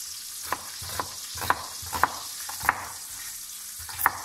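Meat-stuffed mushrooms fry in a pan, a continuous sizzle broken by regular sharp clicks and taps roughly every half second, close and with no voices.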